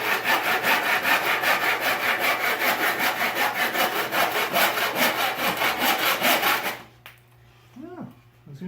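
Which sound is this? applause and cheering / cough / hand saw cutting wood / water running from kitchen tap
hand saw cutting wood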